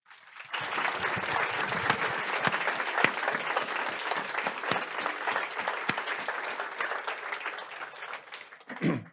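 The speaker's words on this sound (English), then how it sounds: "Can we just give Meghan a final round of applause, please?" Audience applause fills a conference hall, a dense, sustained clapping from many hands that holds steady for several seconds before cutting off, followed by a brief louder burst at the end.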